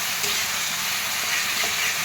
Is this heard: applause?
no